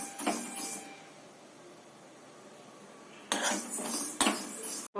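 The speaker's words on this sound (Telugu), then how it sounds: "పెసరపప్పుని గోల్డెన్ బ్రౌన్ వచ్చేలా వేయించుకోవాలి." Moong dal roasting in a pan, with a metal spatula scraping and clinking against the pan in short bursts near the start and end, separated by a quieter stretch of faint background hiss.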